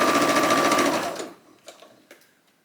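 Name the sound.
sewing machine top stitching dress armhole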